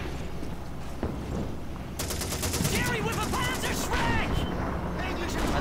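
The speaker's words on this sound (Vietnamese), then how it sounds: "có súng máy mà anh bắn luôn đi" Bursts of machine gun fire in the World War II video game Call of Duty 2, rattling in rapid volleys throughout, loud and close, with game noise underneath.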